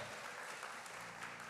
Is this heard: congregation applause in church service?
yes